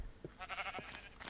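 A quiet wavering sheep bleat from Minecraft, short and faint, preceded by a small click and followed by brief game noises.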